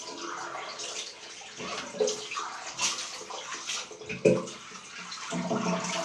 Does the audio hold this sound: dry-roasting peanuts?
no